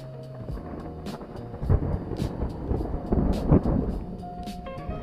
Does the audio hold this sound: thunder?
yes